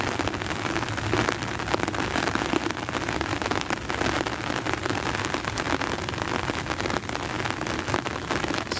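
Steady rain falls on a spring day among lilac bushes, a dense continuous patter of drops on surfaces, moderately loud and even throughout, with no voices.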